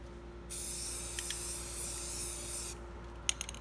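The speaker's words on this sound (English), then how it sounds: "Oh, wait, one more spray." Spray paint can giving one steady hiss of about two seconds, close and fairly quiet, followed by a few light clicks and taps.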